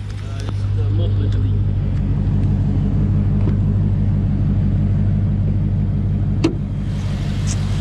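A 2018 Dodge Charger Scat Pack's 6.4-liter V8 idles with a deep, steady, continuous rumble and low throbbing pulses, joined by a brief sharp click near the end.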